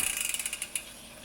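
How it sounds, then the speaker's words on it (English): A Planet 3 bicycle rear hub in dual configuration ratchets as the wheel spins freely, a quick run of sharp metallic clicks that slows and spaces out as the wheel winds down. "So the only sound that you will hear when I spin the wheel is the Planet 3 in the dual configuration setup."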